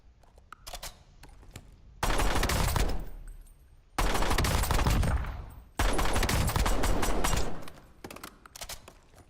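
Automatic gunfire in the video game Warzone, with a weapon fitted with a muzzle brake: three long, loud sustained bursts separated by short pauses, with scattered faint shots between them.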